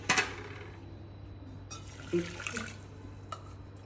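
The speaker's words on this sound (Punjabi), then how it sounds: "ਇਹਦੇ ਵਿੱਚ ਆਪਾਂ ਨਾ ਹੁਣ ਦੋ ਕੋਲੀਆਂ ਪਾਣੀ ਦੀਆਂ ਪਾ ਲਾਂਗੇ" Water splashes into a bowl of crushed jaggery for a home-style gulgule batter, a short pour at the start and a second louder pour midway, with faint trickling and small knocks in a quiet kitchen.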